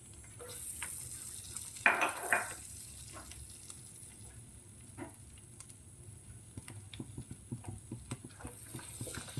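Chopped garlic fries in melted butter, a soft low sizzle with scattered stirring clinks and taps from a spoon, quiet and close, no talk.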